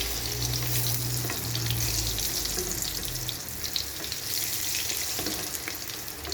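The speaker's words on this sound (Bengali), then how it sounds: "এই যে দেখেন হয়ে গেছে রুটি ভাজা, রুটি ভাজতেছি" Steady, loud sizzling of flatbread frying in a hot pan, a continuous hiss with faint clinks, no voices.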